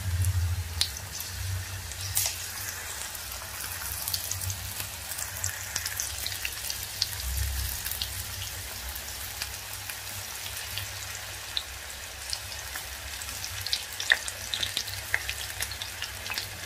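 Thin bitter gourd chips frying in oil on a stove over low heat, a steady soft sizzle with fine crackling pops throughout and no talk.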